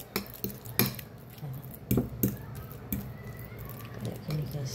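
Ripe bananas mashed with a utensil in a bowl for steamed banana cake batter, giving irregular metallic clinks and soft squashing taps, a few sharper knocks standing out over a low background.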